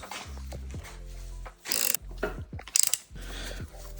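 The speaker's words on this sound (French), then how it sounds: "on va venir desserrer nos têtes de fourche" Motorcycle fork caps on a 125, 250 or 450 being loosened with a tool, a rapid ratcheting clicking that repeats in runs, broken by sharper metallic knocks, close up.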